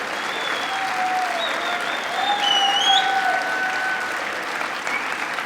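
Audience at a public conversation event breaking into sustained applause, a steady wash of clapping from a large crowd, moderately loud and fairly even, with faint tonal sounds drifting over it.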